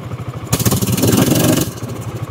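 A buggy engine on wood wheels runs with a steady, pulsing mid-pitched chug, and a louder, rougher mechanical burst for about a second as it shifts into four-wheel drive, then settles back to the running rhythm.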